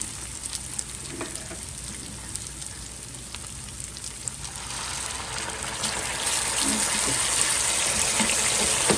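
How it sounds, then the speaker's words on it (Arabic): Hot water pours steadily into a pot, a rushing splash that grows louder and fuller partway through, with a faint sizzle underneath. "انزل عليه بشويه ميه سخنين."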